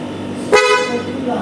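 One short, loud blast from a snail horn fitted to an Uwinfly electric motorbike sounds close by, surrounded by someone talking.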